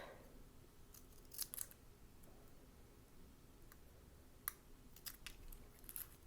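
Curved scissors snip quilt fabric in a few faint, sparse cuts, with quiet clicks between them in a hushed room.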